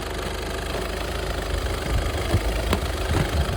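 Idling engine of a 2012 Skoda Octavia, a steady low rumble with a slight knocking pulse, close and continuous with a few faint clicks and no voices.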